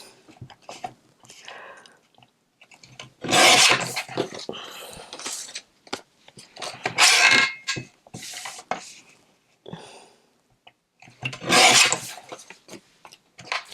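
Small scraps of card stock are trimmed close by, with bursts of rasping cutting and rubbing noise and quieter handling sounds between them.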